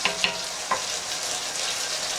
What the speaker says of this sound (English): the moisture is starting to come out of those mushrooms and boiling away